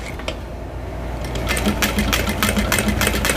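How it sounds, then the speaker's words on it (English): A sewing machine stitches across the end of a bowler bag in a steady, close mechanical whir that grows louder partway through and runs continuously with no talking. "Now I'm going to sew across the end."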